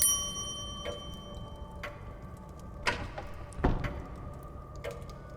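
A bell rung at the entrance of a manor in a video game, a few separate metallic strikes with ringing tails spaced across a quiet interior ambience, moderately close and fairly soft.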